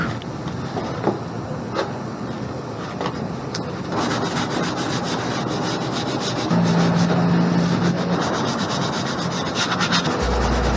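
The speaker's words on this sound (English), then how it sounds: "I will do some sanding and then paint it matte black" Steady abrasive rubbing of sanding on a Suzuki Wagon R MH21S kei car body panel before matte black paint, continuous and close, with faint background noise and no talking.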